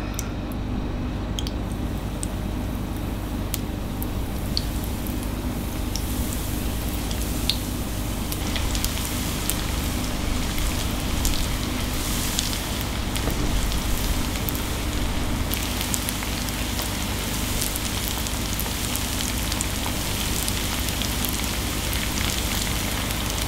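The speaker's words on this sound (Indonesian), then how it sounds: "Kita goreng sampai kecoklatan." Food frying in hot oil until browned, a dense continuous sizzle and crackle holding steady throughout, loud and close, with no talk.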